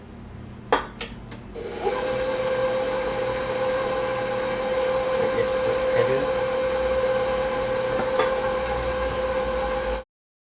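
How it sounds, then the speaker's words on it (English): An electric stand mixer creams butter with white and brown sugar, a steady whirring drone running nearly the full length after a few brief knocks at the start, then cutting off abruptly at the end. "it is creaming together the sugar, the butter"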